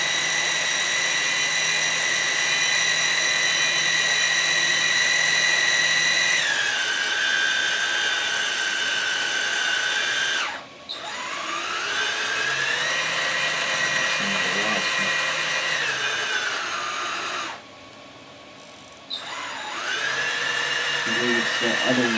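A DXR2 dozer's drive gears whine steadily at high pitch alongside a droning engine, the tone dropping and rising as it changes speed, with brief cutouts.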